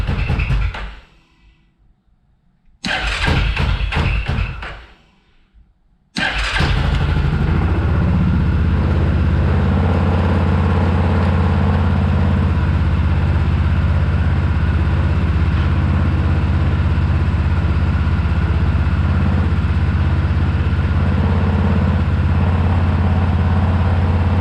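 A Yamaha Grizzly 660 ATV engine cranks in two short bursts with choke on, then catches and settles into a loud, steady, close-up idle that runs unbroken to the end.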